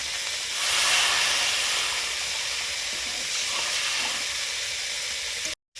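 Water poured into a hot pan of fried spices and salt sets off a steady, loud hiss close by that swells briefly early on and then holds level until it cuts off abruptly near the end.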